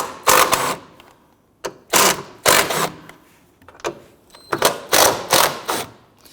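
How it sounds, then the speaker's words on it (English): A ratchet loosens the 13mm top nuts on a front strut assembly of a 2011-2023 Dodge Charger, giving close, loud bursts of rapid clicking in about eight separate pulls with short pauses between them. "let's go ahead and loosen the 13mm nuts"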